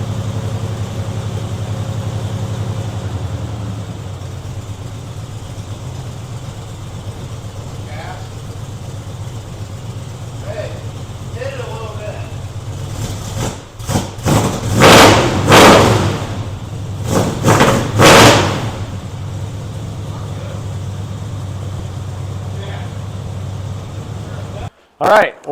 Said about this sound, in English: Those Flowmaster FX series mufflers sure did make it a whole lot better.